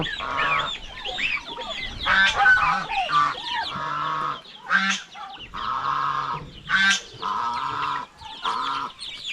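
Geese honking loudly and repeatedly, several birds calling in overlapping bursts with short pauses, close by and no talking.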